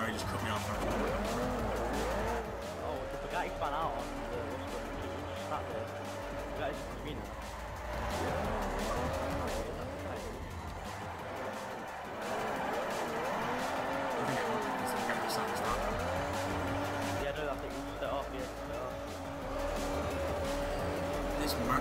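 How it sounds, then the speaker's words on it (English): In Forza 4, racing cars drift and skid with engines revving and tires squealing, while a Bugatti spins out in the race; the engine noise stays loud and continuous with rising and falling pitch, and a voice talks over it. "Oh, the Bugatti spun out."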